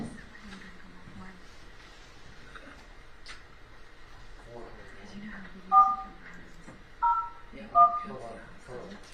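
Telephone keypad dialing tones in a courtroom: three short, clear beeps in the second half, following quiet background voices and room noise.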